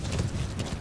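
A horse gallops in the Metal Gear Solid V video game, its quick, rhythmic hoofbeats clopping close and steady.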